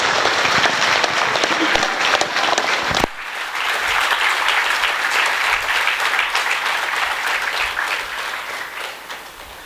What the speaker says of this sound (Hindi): जोरदार तालियों के साथ गुरु माँ जी का आगमन।